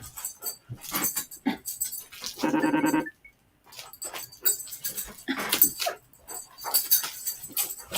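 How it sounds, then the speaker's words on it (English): A big pet dog whimpers and pants in short bursts while pulling its owner around by the arm, with a sustained whiny cry midway followed by a brief quiet gap. "I'm constantly busy entertaining this dog"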